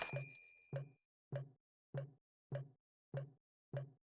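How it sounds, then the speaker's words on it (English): A motel front-desk counter bell in the Day of the Tentacle video game is rung seven times at an even pace, each a clear metallic ding that decays quickly, alone and up close. "Can I use the bell?"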